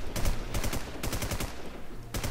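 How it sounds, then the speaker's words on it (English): Bursts of rapid automatic weapon fire on a video game shooting range, several volleys of quick repeated shots separated by short pauses, loud and close with no talking. "you can shoot the weapon a bit"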